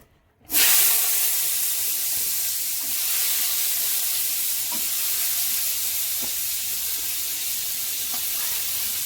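Chilies drop into hot oil in a pan with a sudden loud sizzle that settles into a steady, close hiss of frying, with faint stirring taps now and then.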